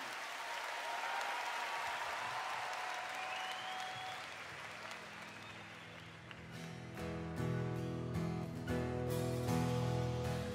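A worship congregation breaks into sustained, dense applause that fills the room for several seconds, then gradually gives way as music enters and carries on beneath the fading clapping.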